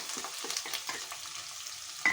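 Onion frying in ghee in a pan, a soft steady sizzle with repeated scraping stir strokes at an uneven rhythm, fairly quiet and close, with a brief sharper clink at the end.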